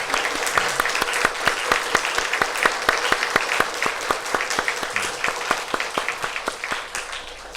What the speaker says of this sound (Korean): 여러분 따뜻한 환영과 축하의 박수 보내주시기 바랍니다.